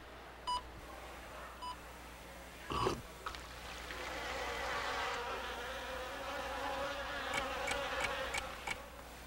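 Flies buzz in a sustained, rising drone for several seconds, preceded by two brief beeps and a dull thump, in an animated short about a restaurant serving flies.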